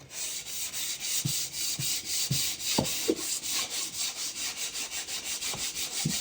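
Sandpaper rubbed back and forth over a wooden window sill being refinished, a rhythmic, close, raspy swishing of even strokes repeating steadily with a few light knocks, no talking.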